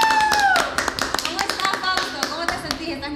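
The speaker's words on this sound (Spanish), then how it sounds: "lo vamos a recibir con un fuerte aplauso" Studio audience clapping to welcome a guest onto a talk show. Sharp individual claps sound close and loud, with a voice heard over them at the start.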